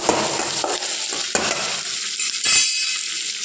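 Onions sizzle and fry in a pan while being stirred for mint chutney, a steady close hiss broken by repeated scraping strokes of a spoon against the pan, with no talking.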